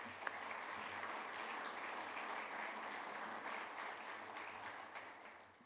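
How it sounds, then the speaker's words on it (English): Audience applause fills a conference hall, steady dense clapping that holds at an even level for several seconds before tapering slightly at the end. "Let's give them a round of applause."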